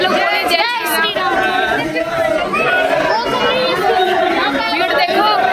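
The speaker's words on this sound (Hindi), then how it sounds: "भीड़ देखो" A dense crowd chatters at the Ayodhya Ram temple, with many overlapping voices forming a loud, continuous hubbub close by.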